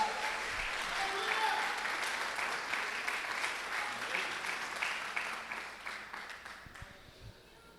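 A church congregation applauds at an Easter service, a broad wash of clapping heard at some distance that holds steady and then slowly fades toward the end.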